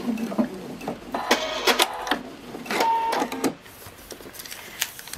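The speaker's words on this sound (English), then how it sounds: "Bring down the speed of your machine and you do your back stitch." A sewing machine runs in short bursts of back stitching while piecing a quilt star, quick rattling runs of the needle separated by brief pauses, close and clear with no talk.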